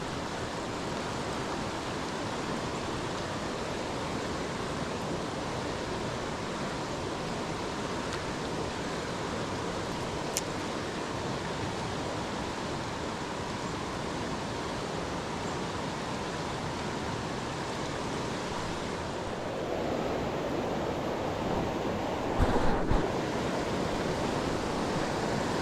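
Rapids in a South Carolina mountain river rush in a steady, dense roar of churning water, close and unbroken, with a brief knock near the end.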